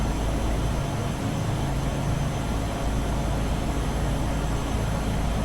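A Turbine Duke aircraft in a flight simulator game drones with a steady, loud, broadband turboprop engine roar that holds constant throughout, with no voices.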